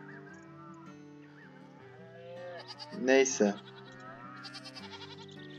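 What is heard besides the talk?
goat bleating in Farm Manager video game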